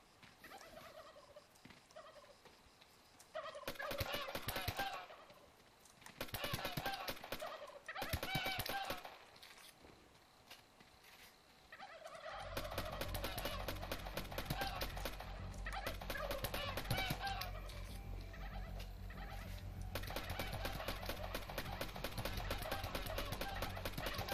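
Killer turkeys gobble in How to Survive 2 amid bursts of gunfire, with rapid clattering shots and game sounds that stop and start, then a steady rumbling layer with faint gobbling under it.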